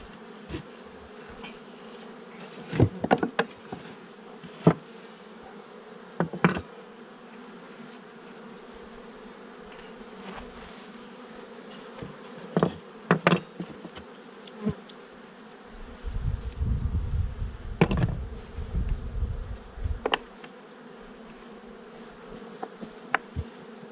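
Steady droning buzz of many agitated honeybees close around a hive being secured with a ratchet strap, with occasional louder passes and brief knocks and thumps over the continuous hum.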